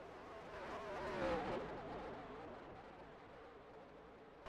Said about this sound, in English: If you can listen to his engine, he is off for most of the corner.